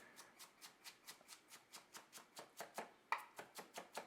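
A knife minces cucumber on a cutting board, about four crisp taps per second in an even rhythm, close up and quiet, with no talking.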